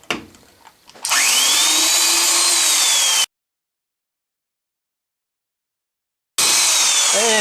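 A power drill fitted with a Versamatic speed reducer drives screws, giving a loud, steady whine close by. It runs in two bursts separated by a few seconds of silence.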